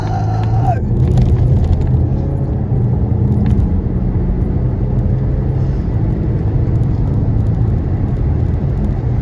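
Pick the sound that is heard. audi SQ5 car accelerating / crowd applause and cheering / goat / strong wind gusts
audi SQ5 car accelerating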